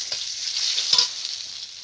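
Black mustard seeds sizzle in hot frying oil, a bright continuous crackle and hiss with a couple of small pops, close and steady, with no voices.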